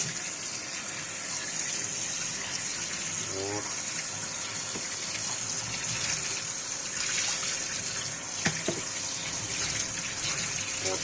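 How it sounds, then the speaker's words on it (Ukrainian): Cold tap water gushes steadily over cooked asparagus in a kitchen to stop the cooking, a continuous running stream with a few clinks, while a person talks over it. "треба тепер холодною водою її обдати, щоб припинити процес"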